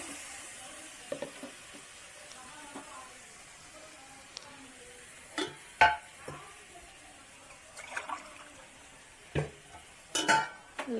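Crab masala is stirred in a pan with ground paste, giving a faint, low sizzle broken by scattered scraping and clinking strokes of the spoon against the pan.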